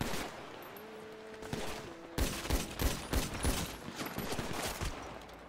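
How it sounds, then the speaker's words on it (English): Rapid bursts of gunfire crack in an arena shooter video game as the player takes hits, a quieter lead-in giving way to a dense, close volley of repeated shots. "Where am I getting shot from?"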